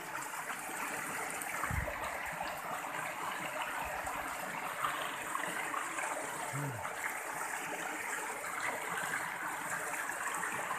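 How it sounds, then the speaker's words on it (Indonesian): A fast-flowing river stream at Batu Gajah in Rokan Hulu rushes steadily, a constant broad watery roar heard close by with no break and no talking. "ini alirannya cukup deras"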